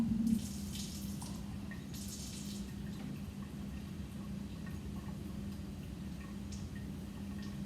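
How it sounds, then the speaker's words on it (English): A little water poured into a lab beaker and swirled, a soft, faint trickling wash with light ticks, quiet and steady, no talking. "I'm going to put a little water in the beaker, swirl it around"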